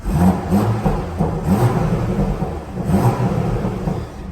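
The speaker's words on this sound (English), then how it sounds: "You get a lovely burble from that inline 6 turbocharged petrol engine." BMW M340i G20 saloon with its turbocharged inline-six petrol engine in sport mode, giving a loud, close, steady low burble with a few rising rev swells and no talking.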